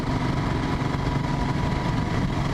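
A motorcycle fitted with a VW Beetle muffler on its exhaust idles in a steady, loud, low rumble throughout, close by, with no talking.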